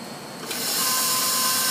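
Electric stand mixer whipping heavy cream for a white chocolate banana cream pie, a loud steady high-pitched whir that ramps up partway through and holds, close and alone.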